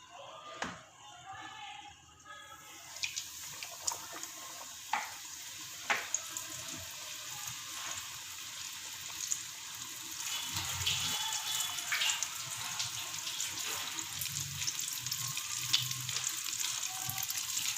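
Zinger burger chicken pieces, dipped in flour, frying in oil over medium heat, giving a steady hiss and crackle that swells and holds toward the end, with brief clinks and handling noises early on.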